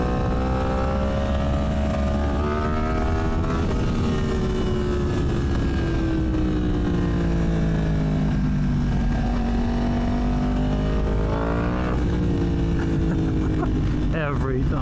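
Motorcycle engine running steadily while riding, its harmonic drone rising and falling with throttle changes and wind rumble throughout, with someone talking over it most of the way.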